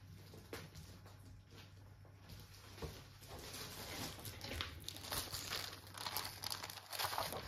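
A piece of blackcurrant-coloured scrapbooking paper is handled and crinkled up close, soft rustling and crackling that grows busier toward the end over a low hum.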